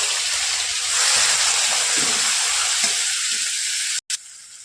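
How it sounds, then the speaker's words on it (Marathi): Green chili paste sautéing in a pan gives a loud, steady frying hiss that cuts off abruptly near the end, followed by a brief quieter sizzle. "मिरचीचं वाटण थोडंसं परतून झालंय"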